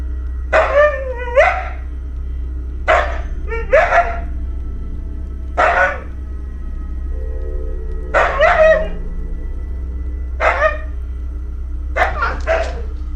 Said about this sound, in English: he saw his dog playing around continuously